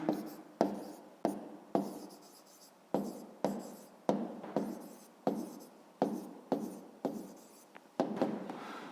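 Handwriting with a pen on paper during a fifth-grade maths exercise, heard as a regular series of short scratchy strokes, about a dozen in quick succession, close and clear with no voices.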